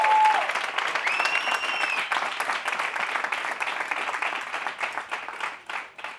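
An audience applauds steadily for several seconds, dense clapping with cheering that tapers off toward the end.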